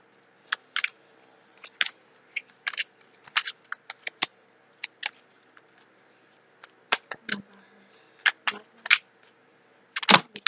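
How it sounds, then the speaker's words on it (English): Tarot cards being shuffled by hand, close and quiet, in short irregular bursts of crisp riffling and snapping with brief silent gaps between. "let's start shuffling here"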